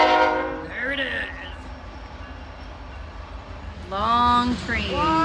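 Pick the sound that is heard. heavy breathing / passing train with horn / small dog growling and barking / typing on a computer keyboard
passing train with horn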